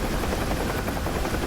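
A helicopter flies during a festive rescue mission in a video game, its rotor and engine giving a steady, dense whirring drone throughout, with no talk over it.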